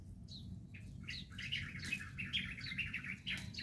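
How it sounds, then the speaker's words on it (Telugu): Several birds chirp and tweet in quick, overlapping bursts over a steady low rumble of background noise, continuous throughout. "నేను పైకి రాగానే పిట్టలు అరుస్తున్నాయి"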